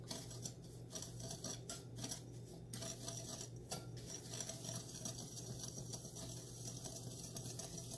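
Utensil stirring oatmeal raisin cookie batter with brown and white sugar in a bowl, a steady faint scraping and clinking with no talking.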